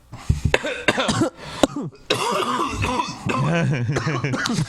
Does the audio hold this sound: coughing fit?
yes